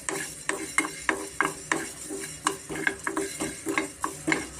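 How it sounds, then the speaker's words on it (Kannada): Coriander seeds dry roasting in a pan over a medium flame for mango pickle, stirred with a steady rhythm of about a dozen close scraping strokes and light rattles, with no talking. "ಸ್ವಲ್ಪ ಮೀಡಿಯಮ್ ಫ್ಲೇಮಲ್ಲೇ ನಾವು ಹುರ್ಕೊಬೇಕಾಗುತ್ತೆ ಚೆನ್ನಾಗಿ ಹುರ್ಕೋಣ"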